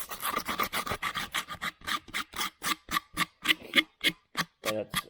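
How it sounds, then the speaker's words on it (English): Hand sanding on PVC, with repeated short rasping back-and-forth strokes in a steady rhythm, close and distinct with brief gaps between passes. "just a little bit of sanding, hand sanding, and that comes right off"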